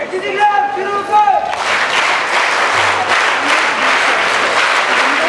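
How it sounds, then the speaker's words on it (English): Loud crowd applause at a school investiture ceremony for the speakers, opening under a brief spoken voice, then dense, thunderous clapping continuing strongly to the end. "Let us once again acknowledge all our speakers with a thunderous round of applause."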